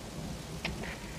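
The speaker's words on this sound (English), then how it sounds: "now you notice it's started to rain" Rain falls in the video game Metal Gear Solid V: The Phantom Pain at an offshore base, a steady hiss of downpour with a couple of faint sharp drip-like taps, no voices.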